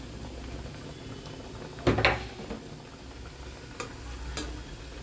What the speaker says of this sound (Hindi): खूब अच्छे से हमको इसको फ्राई कर लेना है धीमी आंच पे